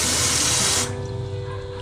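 Water gushing hard from a kitchen tap in a dirty kitchen of a Philippines rental house, a loud steady rushing hiss that cuts off abruptly partway, leaving a faint hum.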